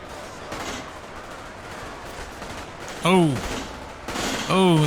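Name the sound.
gunfire from a video game battle (Ultimate Epic Battle Simulator)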